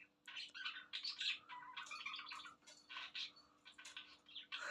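A pet crow squawks and calls while playing with cats indoors, giving a quick series of harsh, close squawks and chirps in short bursts with brief pauses between them.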